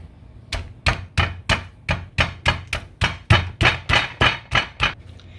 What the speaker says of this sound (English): And we're gonna be chopping our chicken.